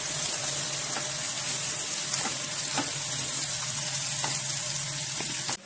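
Onion and slit green chilies fry in hot oil, a steady close sizzle and crackle running throughout with occasional sharper pops over the bubbling hiss.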